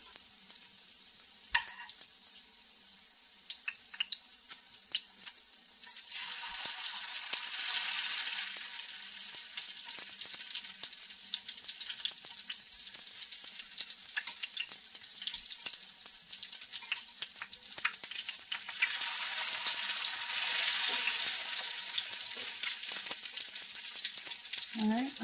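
Mackerel fritters fry in a pan with a steady close sizzle and crackle, swelling louder in broad bursts partway through and again near the end, with no talking.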